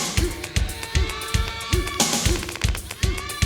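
MXR Bass Synth pedal on its Red 3 preset, dialed in for an early-90s industrial bass tone: punchy synth bass notes pulse in a steady, driving rhythm over a dense, bright backing mix, with no talking.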